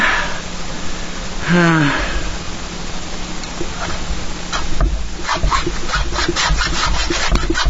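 A hand rasp file scrapes back and forth in repeated rough strokes, picking up into a quicker rhythm toward the end, with a voice speaking in the background.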